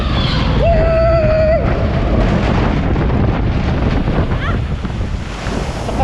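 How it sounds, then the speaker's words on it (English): Water rushing and splashing on the Journey to Atlantis flume ride at SeaWorld, a steady loud wash of spray and wind noise throughout, with a brief whoop from a rider near the start. "only a little splash, minor splash"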